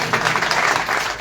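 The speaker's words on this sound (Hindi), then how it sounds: "एक बार जोरदार तालियां माननीय अध्यक्ष जी के लिए हो जाए" Crowd applause at a political gathering in Dadri, Noida: a short, dense burst of many hands clapping together, loud and steady from start to finish with no talk over it.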